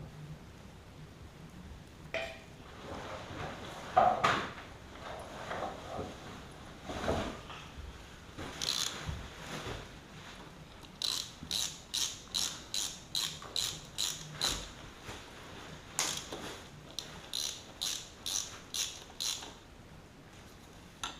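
Small metallic clicks and ratcheting as a plate is fitted over a new dirt bike sprocket, quiet irregular taps giving way to a run of rapid evenly spaced ratchet clicks, no talk.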